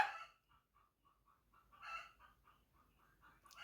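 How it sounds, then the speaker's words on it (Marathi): Chickens cluck in a loose series of short, repeated calls, with a louder burst of squawking in the middle; no one speaks. "पहा कोंबड्या किती ओरडत आहेत"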